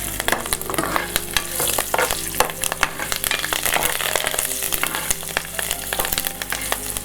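Small byadagi chillies and curry leaves crackle and sizzle in hot oil for a tempering, a dense steady frying hiss with sharp pops and stirring clatter, close and loud.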